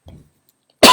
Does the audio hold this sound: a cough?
yes